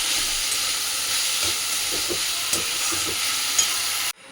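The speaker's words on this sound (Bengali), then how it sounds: "আর এখন একটুখানি মোচা ভাজা করছি" Banana flower (mocha) fries in a pan with a close, steady sizzling hiss and a few soft stirring taps before the sound cuts off abruptly.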